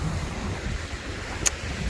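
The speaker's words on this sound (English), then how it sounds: "So we reached the waterfall." Kirkjufellsfoss waterfall in West Iceland gives a constant broadband rushing roar mixed with wind buffeting the microphone, and one sharp click stands out near the end.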